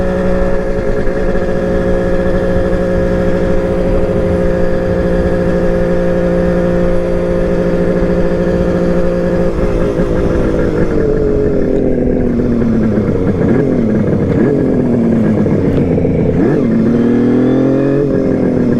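Kawasaki KH 500 H1 motorcycle engine under way, a loud close steady drone that shifts midway into rising and falling revs as the rider works the throttle and gears, with no talking.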